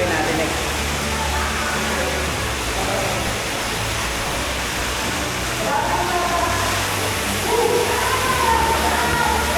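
People wading and splashing through cold river water on a Sagada group tour, a continuous rushing of water with sloshing steps, and voices talking over it throughout.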